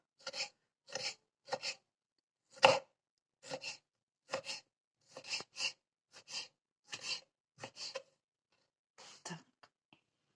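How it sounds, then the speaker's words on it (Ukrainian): A knife cuts carrot into strips, making about a dozen crisp, separate chops on a board. The chops come close up at a fairly even, unhurried pace, with silence between them. "Ота, що в нас не потерлась добре, ми її нарізаємо на соломку"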